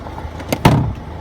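Third-row seat of a 2013 Hyundai Santa Fe CRDi folded down inside the cargo area: a soft click followed by a heavier thump and brief rustle, close up in a quiet car.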